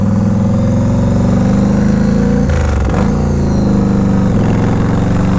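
A Yamaha Road Star 1700 Silverado cruiser rumbles loudly and close while riding, a deep continuous V-twin drone with a brief dip in pitch and return partway through.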